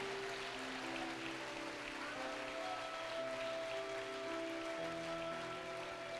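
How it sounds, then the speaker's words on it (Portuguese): Clapping fills a church service as the congregation applauds Jesus, a steady, even wash of many hands sustained throughout with musical tones lingering beneath, no voices on top. "Dá uma salva de palmas para Jesus"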